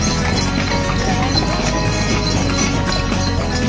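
Hooves of a horse pulling a delman carriage clip-clop steadily and close by on a ride around the Bogor botanical garden, with continuous street and traffic noise behind and occasional voices.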